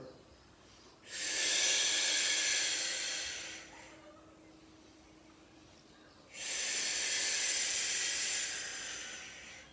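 Two long, loud breaths, hissing out through the mouth during a Pilates core exercise, each lasting a few seconds with quiet pauses between them.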